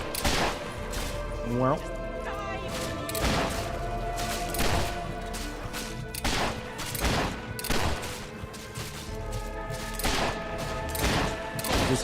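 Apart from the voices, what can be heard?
gunfire in video game Fable 3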